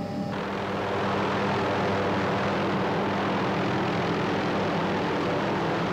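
A pickup helicopter airlifts captured desert bighorn sheep off a mountain slope, its engine and rotor droning steadily and loudly throughout with no pause or talk.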